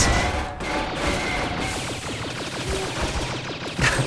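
Rapid bursts of gunfire in the futuristic side-scrolling game Cortex Command, dense overlapping shots and impacts in quick succession at a steady loud level, with a sharper hit near the end.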